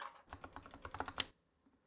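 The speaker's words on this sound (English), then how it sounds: "Very nice typing switch if you do an awful lot of typing, but it is quite loud" Quick bursts of keystrokes on a Keychron K8 Pro hot-swappable mechanical keyboard with its keycaps removed, a dozen or so sharp, fairly loud clicks in an uneven run, then a pause and one last tap.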